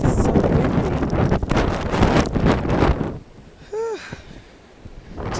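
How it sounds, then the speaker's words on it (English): Strong wind during a blizzard in Maryland roars and buffets the microphone for several seconds, then eases into a quieter lull with a brief high squeal. "It is so windy."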